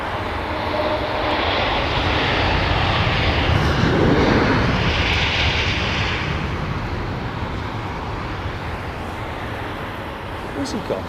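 A jet airliner landing in wet weather at London Heathrow Airport, its loud, roaring engine noise sustained close by for about eleven seconds, swelling mid-way before easing off slightly, with people talking intermittently.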